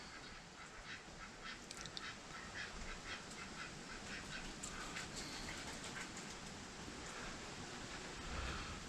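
Ducks quacking outdoors during a hurricane, repeated scattered quacks at moderate distance over a constant loud wash of wind and rain.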